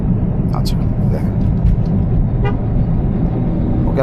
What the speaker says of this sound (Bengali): ওকে আমি ছোট্ট করে হর্ন দিয়েছি যেন কোনোভাবেই না চাপে।